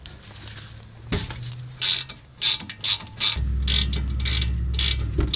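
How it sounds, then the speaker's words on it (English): A 14mm wrench unthreads a stiff rear brake caliper slide pin on a 2004 Toyota Avalon, giving close, rapid ratcheting clicks that become a steady, continuous run of mechanical ticking. "the next thing we're going to do is take out the slide pins, and those are a 14mm wrench"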